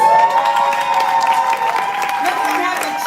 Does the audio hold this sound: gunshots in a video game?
no